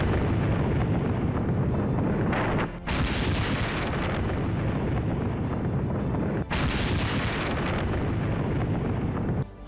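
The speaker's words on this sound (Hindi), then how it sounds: "एयर स्ट्राइक के बाद इस हथियार डिपो में एक के बाद एक कई धमाके होने लगे।" Explosions after an air strike on a Hezbollah weapons depot in Lebanon, heard as a continuous, heavy roaring rumble with a couple of sudden louder bursts, loud and sustained throughout.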